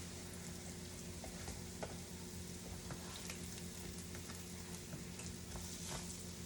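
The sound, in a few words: bannock dough frying and sizzling in oil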